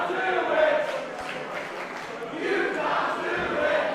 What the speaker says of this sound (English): The crowd saying you can't do it.